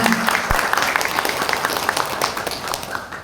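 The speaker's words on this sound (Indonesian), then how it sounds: "Tepuk tangan semangat ya." A crowd applauds steadily, dense clapping from many hands sustained throughout, fairly loud and even.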